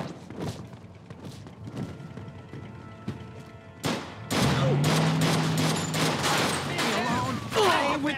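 Mafia 2 gameplay: a shootout opens with sparse thuds, then heavy, rapid gunfire breaks out midway and keeps going loud and dense, while game characters shout over it.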